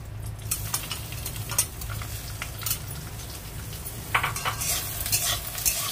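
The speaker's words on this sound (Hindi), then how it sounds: "सारा चीज को बढ़िया से हम फ्राई कर लेंगे" Sago pearls fry over high flame in a pan while a spoon stirs, making a constant gentle sizzle with repeated metallic clinks and scrapes against the pan, close by and without talk.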